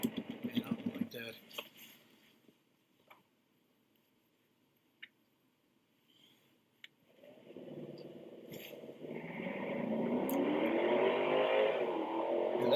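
A 2020 Genesis G90 engine revs up, a steady rising drone building loudly over the last several seconds after quieter stretches with a few brief clicks and knocks.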